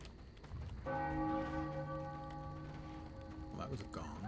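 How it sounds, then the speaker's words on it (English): A gong strikes in Warhammer Online: Return of Reckoning, one resonant metallic hit ringing out with a long, slowly fading tone over faint game ambience, followed by someone speaking. "that was a gong."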